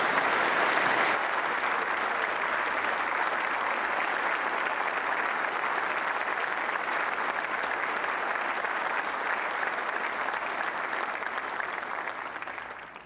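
An audience at the Spiritual Leadership Conference 2019 Defense of Freedom Award applauds Dr. David Gibbs, a dense, sustained clapping from a large crowd lasting about thirteen seconds before tapering off at the end.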